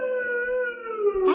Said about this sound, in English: And then I heard that siren in the distance.